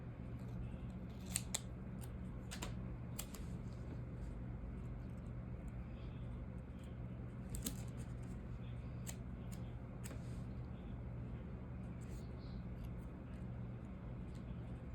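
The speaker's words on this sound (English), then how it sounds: "I'm going to do my little trick where I cut off" Scissors snipping through foil in a quiet room, several brief sharp cuts scattered irregularly over a steady low hum, close but fairly faint.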